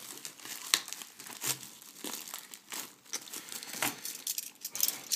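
Plastic wrapping on a sealed trading card booster display crinkles and tears in irregular bursts, close and fairly loud, with no talking.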